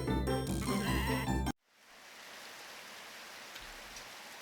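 Sheep bleat in a video game: a loud stretch of game music with bleating cuts off abruptly, leaving a steady rain-like ambient hiss with a faint sheep call near the end.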